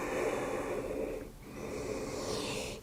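Steady breathing during a yoga forward-fold pose, a soft close airy inhale and exhale with a brief pause between breaths.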